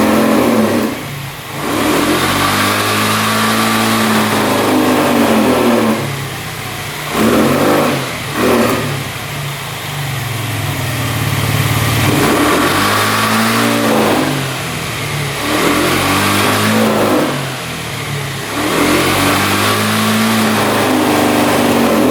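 A scooter engine running without its air filter revs repeatedly, surging and bogging down between throttle blips, loud and close throughout with no talking.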